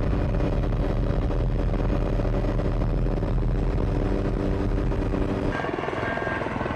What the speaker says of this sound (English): Helicopters are able to offlift logs directly from the ship to the storage area.